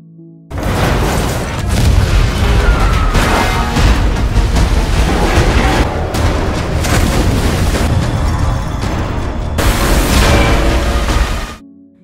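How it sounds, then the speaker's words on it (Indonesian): A ship blows apart in a violent explosion, a sudden thunderous blast swelling into a sustained, roaring wall of broadband rumble and debris noise that stays loud for over ten seconds before cutting off. "kapal meledak hebat"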